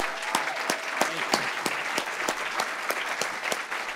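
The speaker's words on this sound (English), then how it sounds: "Let's give him a hand." Sustained applause from an audience at an event honouring young stock traders, dense steady clapping filling the room for several seconds with a few sharper claps standing out, no voices on top.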